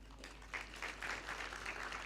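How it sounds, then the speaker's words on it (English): Applause from an audience at a 10th anniversary event, a steady patter of many hands sustained throughout, moderately distant and fairly quiet. "Let's have a clap, whether they're here or not. Let's give them a clap."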